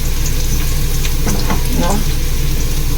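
Garlic frying in a pan gives a steady, fairly loud sizzle, with a few stirring scrapes near the middle and faint voices in the background.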